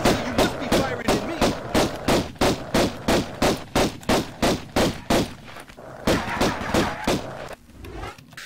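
Rapid, evenly spaced bursts of gunfire ring out in the 1996 Tomb Raider video game, about twenty loud sharp shots over several seconds, followed by a denser burst near the end, with a voice talking faintly underneath.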